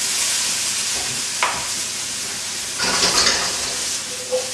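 Fried rice with garden peas sizzles and hisses in a hot pan over high heat, a steady close frying roar with brief louder surges as it is tossed.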